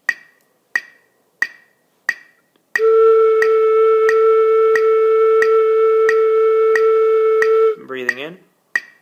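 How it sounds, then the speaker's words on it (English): A flute head joint blown with a steady airstream gives one sustained, bright, pitched tone lasting about five seconds. Evenly spaced metronome clicks sound before, under and after it, and a short voiced sound follows the tone. "First, we want to use just our head joint to practice good, consistent airstream across the lip opening."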